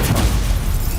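Stupefy spell cast in the video game Hogwarts Legacy, a dense booming magical burst with heavy low rumble and crackling energy, loud and sustained through the moment with no talking over it.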